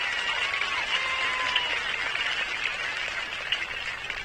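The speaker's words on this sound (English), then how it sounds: "How about a round of applause for that," Audience applause at the Roy C. Ketcham Senior High School class of 2024 graduation, a steady, fairly distant wash of clapping from a large crowd with faint whistles in the background.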